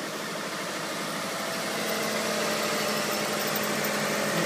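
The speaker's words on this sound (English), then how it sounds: "Lifter noise is appearing to be gone. I'll let it warm up a little bit." A 1994 Subaru EJ22T turbo engine idles steadily after a lifter replacement, giving a continuous even hum with faint mechanical ticking, close and at moderate volume.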